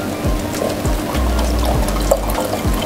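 Small Rosston electric water pump pushing water out, a continuous splashing pour with a trickling, gurgling flow and a low hum beneath, steady and close with no talk.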